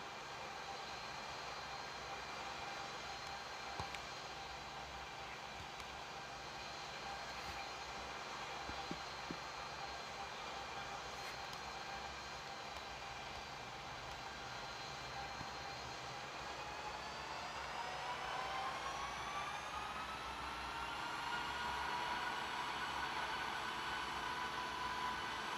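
Simulated Boeing 737 MAX 8 engines in the Infinite Flight game roar steadily through a takeoff roll, a constant whine that rises in pitch and loudness toward the end.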